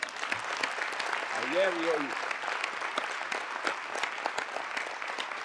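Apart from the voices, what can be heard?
audience applause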